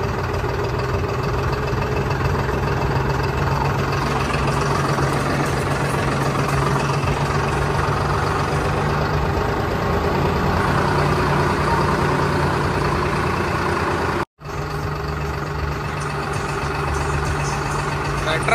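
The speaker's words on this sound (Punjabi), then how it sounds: "ਟਰੈਕਟਰ ਮਾਰਚ ਅਤੇ ਜਾ ਰਹੇ ਨੇ ਟਰੈਕਟਰ।" Several tractors in a farmers' tractor march through a Punjab village, engines idling and rumbling steadily and loud throughout, with one brief dropout near the end.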